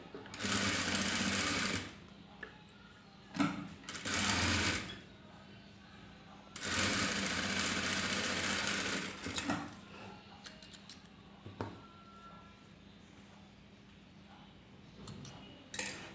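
A sewing machine stitches thread piping in loud, steady bursts of whirring motor noise: one short run, a second brief run, then a longer one, each separated by quiet pauses with faint handling sounds.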